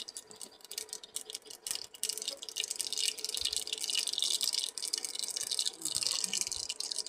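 Mustard seeds splutter and pop in hot oil, a close, dense crackling hiss that builds and keeps going, with scattered sharper pops.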